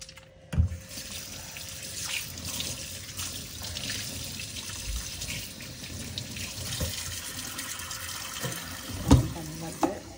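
Tap water runs steadily into a sink during handwashing, a continuous close splashing hiss with a few louder clunks and splashes, no voices over it.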